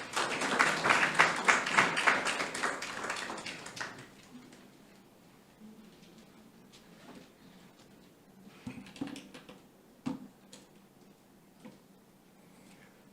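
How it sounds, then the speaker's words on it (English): An audience at a public health campaign event gives a burst of applause lasting about four seconds, loud and dense at first before it fades into a quiet room with scattered taps and small knocks. "So please give him a warm round of applause."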